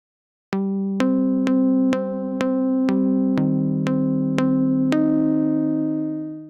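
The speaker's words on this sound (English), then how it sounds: "which is going to modulate the voice panning from left to right." A drum sampler in Sensory Percussion 2 fires about nine evenly spaced pitched hits with panning set by an LFO. Each tonal strike rings with clear harmonics, and the later hits sustain longer and fade out at the end.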